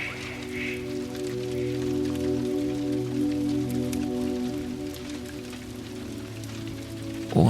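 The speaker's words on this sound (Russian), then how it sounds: "Это осенний дождь." Autumn rain falls outside a window, a steady, even patter of drops lasting throughout, with a low sustained droning tone running underneath.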